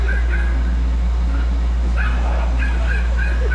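A dog yips and whimpers in short, uneven bursts over a loud, constant low rumble, with a possible faint voice in the mix.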